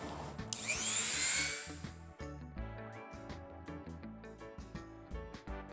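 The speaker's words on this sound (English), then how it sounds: "I'm gonna go ahead and Dremel them out" Dremel rotary tool cutting shark shapes from scrap plywood, a high whining grind that rises then fades into intermittent scraping and knocking handling sounds.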